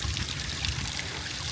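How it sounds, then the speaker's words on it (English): Water babbles and trickles steadily from a water feature at a 1960s island resort, a close, continuous splashing wash with no voices over it. "What is the allure of babbling water? You know, it sounds like a creek or a stream probably"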